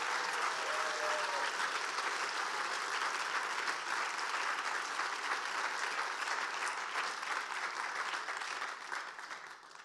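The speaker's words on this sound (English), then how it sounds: "So if we could give them a round of applause," A crowd applauds at a startup accelerator demo day with steady, dense clapping that keeps going for several seconds and fades slightly near the end, with no voices over it.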